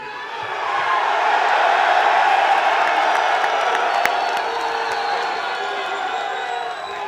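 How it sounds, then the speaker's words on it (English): A large crowd at a UFC 205 press conference cheers and whoops, a loud roaring swell that builds quickly, holds, then slowly fades, with scattered shouts and some clapping. "You heard that, the crowd, just when you opened and just now when we said your name."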